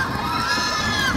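A crowd at a basketball game, a quarter-final, cheers and shouts loudly, with high excited voices blending into one dense roar.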